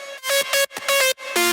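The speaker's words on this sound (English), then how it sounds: "You can just hear that like super distorted sound" Heavily distorted synth lead from an init patch with reverb, three loud gritty stabs in quick succession with short gaps and a reverb tail, close and alone without any talking.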